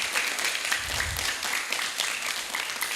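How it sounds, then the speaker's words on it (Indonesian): At an elementary school event in Gunungsitoli, a gathering of pupils and teachers claps after a poem recital, a moderately quiet, continuous patter of many hands without speech. "Sekali lagi berikan tepuk tangan yang meriah."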